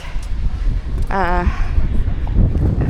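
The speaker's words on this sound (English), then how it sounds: "it's a bit windy" Gusty wind rumbling and buffeting the microphone throughout, with a brief voice rising over it partway through.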